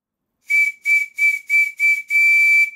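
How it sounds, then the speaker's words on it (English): A PM Research model steam whistle for a Stuart model steam plant sounds five short, clear shrill blasts in an even rhythm, then one longer sustained blast, close and loud with an airy steam hiss and no voices. "This is a PM Research whistle."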